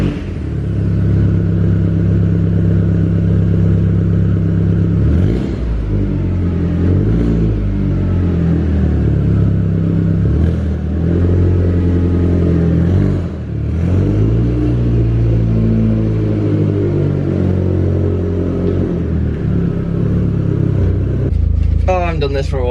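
A Cupra car drives a lap around a park with its engine droning loud and close from inside the cabin, pitch rising and falling through gear changes as it accelerates, while people talk over the engine noise.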